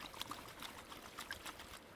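Water sloshing and swirling in a gold pan during gold panning, soft irregular splashes and trickles close by, with no voices.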